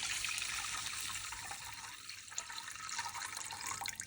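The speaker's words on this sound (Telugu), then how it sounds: "ఒక కప్పుకి కప్పున్నర చొప్పున వాటర్ వేసుకోవాలి" Water pours steadily into a pan set on a stove, a continuous close splashing stream with little variation in loudness and no one talking.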